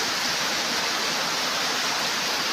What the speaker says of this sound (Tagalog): Ang lakas ng ulan dito ngayon.